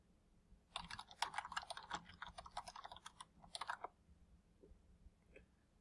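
Quick, faint clicking keystrokes on a computer keyboard, a burst of typing lasting about three seconds before trailing off into a few isolated taps, with no voices.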